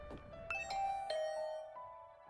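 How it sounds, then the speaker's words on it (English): A doorbell rings behind a door in the video game The Hundred Line: Last Defense Academy, with a few clear, bright chime tones sounding one after another and fading out softly in a quiet setting. "I rang the doorbell and could hear the bell ring on the other side of the door."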